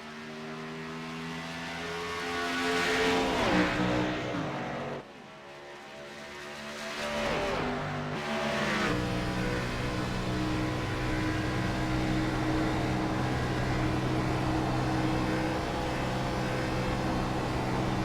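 An All Pro Racing race car, number 02, runs a qualifying lap with its engine held at steady high revs. The tone dips briefly around a corner, then climbs back into a sustained, loud drone.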